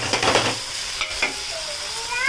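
Onion and tomato fry in a pan with a soft, steady sizzle, broken by a few scraping stirs of a spoon against the pan; no voices.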